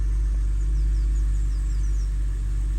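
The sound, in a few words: BMW E90 N52 engine idling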